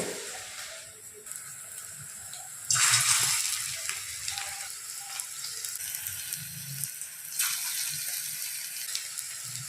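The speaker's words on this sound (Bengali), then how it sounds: "ছোট ছোট বড়া আকারে আমি কেটে ভেজে নেবো" Small drumstick flower fritters fry in hot oil over a low gas flame, giving a continuous sizzle that swells louder at moments as batter goes in or is moved, with no talking.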